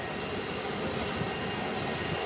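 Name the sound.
Gulfstream G5 jet engines during takeoff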